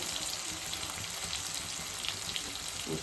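Onion, tomato and green chilli frying in a pan: a soft, steady sizzle heard up close and alone, with no stirring or talk.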